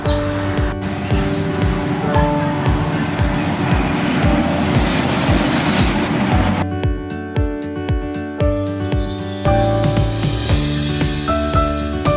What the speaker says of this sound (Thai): ตอนนี้เฮียอยู่สถานีรถไฟตลาดพลู